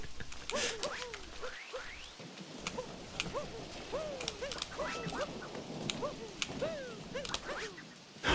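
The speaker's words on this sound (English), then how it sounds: "My dog always barks when it's clicking." A pet dog barks repeatedly in a loud, close, fast series of sharp yips and barks, mixed with rapid clicking from a game controller during a Super Mario Odyssey speedrun.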